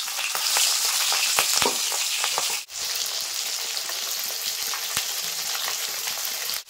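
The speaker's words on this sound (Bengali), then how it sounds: "আমি এই তেলের ভিতরে এবার মাছ ভেজে নেবো" Large rohu fish pieces frying in oil in a wok give off a close, steady crackling sizzle with sharp pops, briefly dipping once partway through before resuming.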